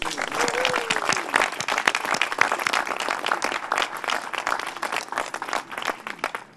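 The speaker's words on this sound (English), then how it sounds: "And that deserves a round of applause." An audience at a press briefing on a fareless transit pass program for Los Angeles County community college students breaks into lively applause, with loose, uneven clapping and a few voices briefly mixed in.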